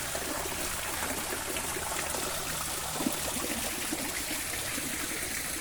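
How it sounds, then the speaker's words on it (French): A small waterfall in a park garden splashes steadily, a dense, even rush of falling water close by with occasional louder splashes and no voices. "Là vous avez une petite cascade d'eau qui est super. J'adore venir ici en vrai. J'adore entendre le bruit de l'eau."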